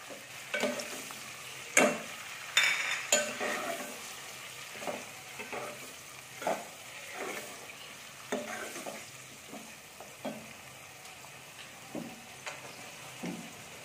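Quiet, steady sizzling of garlic-ginger paste frying in a pan, with soft repeated stirring scrapes at an even pace.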